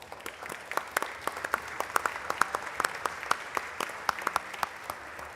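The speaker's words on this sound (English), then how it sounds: "let's give them a big round of applause." Applause from members in the Texas House chamber during a legislative session, a steady wash of clapping with distinct sharp claps standing out near and far throughout.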